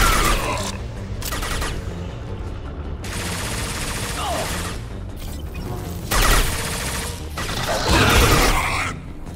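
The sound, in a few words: gunfire in the video game Mass Effect 2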